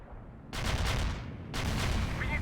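A World in Conflict artillery barrage comes in two sustained waves of loud, dense rumbling detonations, each starting abruptly and running continuously until the end.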